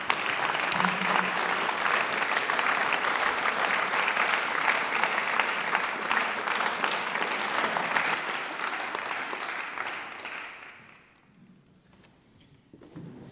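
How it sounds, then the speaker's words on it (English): A room full of people gives a big round of applause for a winner at a regional volunteer awards event, dense and sustained for about ten seconds before fading to quiet. "hopefully you'll get a feel-good factor from the room as they give you a massive round of applause"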